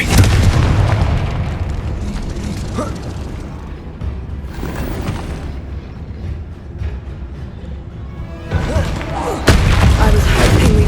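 A Confringo explosive spell blast in the Hogwarts Legacy video game, loud booming rumble and burst with heavy low-end roar that swells again near the end, dense and continuous.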